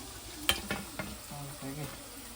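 Biryani ingredients frying and being stirred in a pan: a low, steady sizzle broken by a few clattering scrapes of a spoon against the pan, fairly faint and close.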